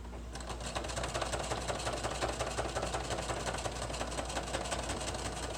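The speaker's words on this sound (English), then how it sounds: "I'm going to sew it again" A sewing machine stitches through paper notebook binding, a steady, fast mechanical whirring and clatter running continuously at moderate volume with no pauses.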